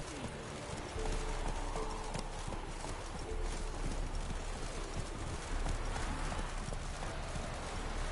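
Horse hooves trot in The Witcher 3 video game, a steady rhythmic clip-clop that runs throughout under a busy ambient bed, with no voices.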